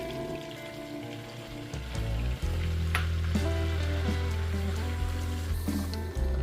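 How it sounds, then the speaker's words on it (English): Roux of vegetable oil, butter and flour sizzles over medium heat, a steady crackling fry with occasional stirring scrapes and a low hum underneath, close and continuous without speech. "You're going to continue to stir the roux until it gets to a chocolate color"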